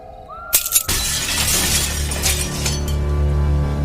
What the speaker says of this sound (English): She heard the tinkling of falling glass from a broken window